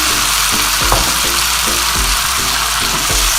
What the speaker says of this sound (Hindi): अब हम इसमें शामिल कर देंगे टमाटर जो हमने काट के रखे हुए थे